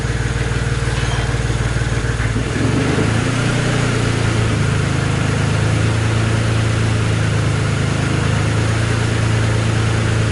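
A turbocharged buggy engine running on E85 fuel idles roughly, then rises in RPM after a few seconds and holds a loud, steady, droning higher note close by, with no talk.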